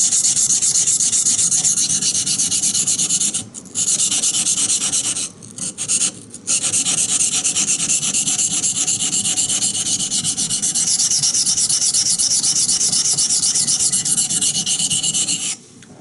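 A Bark River Bushcrafter knife blade is ground on a coarse 220 water stone in a continuous, close, gritty scraping with a few short pauses.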